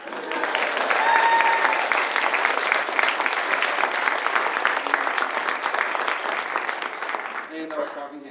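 Loud, sustained audience applause after a short stage performance, a full, even wash of clapping from many people that holds steady for several seconds before thinning as voices emerge at the end.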